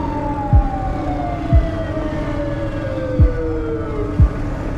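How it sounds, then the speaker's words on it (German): A police siren wails steadily in the background with a slowly falling tone, while low thumps recur every second or so against steady traffic rumble in Pakistan. "Bei Stau wird die Sirene angemacht,"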